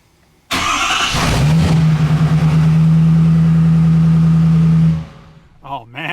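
A turbocharged 2017 Ford F350 pickup under rebuild cranks and catches, then runs loud and steady with a deep, even drone for about four seconds before shutting off, followed by a brief voice.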